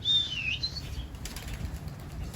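Wings flap rapidly as a Mardin pigeon takes off nearby above its coop, with a brief high chirp at the start, followed by softer fluttering and background hum.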